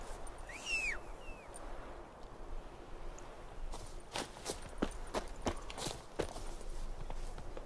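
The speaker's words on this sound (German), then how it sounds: "Komm her, Plötze, komm" Horse hooves clip-clopping as the mount draws near in The Witcher 3, a run of sharp clops growing in the second half after a brief bird-like call, under game ambience with no talk.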